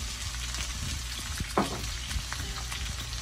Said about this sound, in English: once the oil is nice and hot, then we'll add our peppers